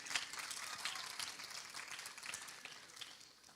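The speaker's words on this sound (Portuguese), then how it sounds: "Pode aplaudir a Jesus." A church congregation at a youth night gathering breaks into applause, a fairly faint, dense patter of clapping that slowly fades out.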